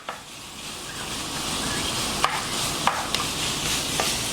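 Sausage browns in a pan over medium-high heat, a soft continuous sizzle with a few sharp utensil clicks and scrapes partway through, no talking.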